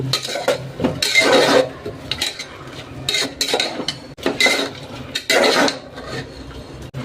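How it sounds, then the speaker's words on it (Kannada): Mint paste frying in a pot for pudina rice, stirred with repeated scraping and clanking of a utensil against the metal, loud and close, in irregular bursts over a low sizzle. "ಪುದೀನ ಪೇಸ್ಟ್ ಸ್ವಲ್ಪ ಚೆನ್ನಾಗಿ ಫ್ರೈ ಮಾಡ್ಕೊಳ್ಳೋಣ"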